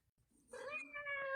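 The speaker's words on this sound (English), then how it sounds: "It's my cat." A cat gives one drawn-out, rising meow close by, starting faint and swelling in loudness against a quiet room.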